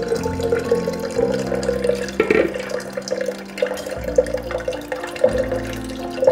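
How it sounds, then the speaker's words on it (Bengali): Blended juice pressed slowly through a strainer, giving a close, steady wet trickle and splashing liquid with soft squelching pulses as the pulp is squeezed, no voices. "এইভাবে আস্তে আস্তে চেপে চেপে রসগুলি নিয়ে নিতে হবে।"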